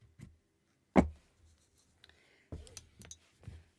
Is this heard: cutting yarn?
yes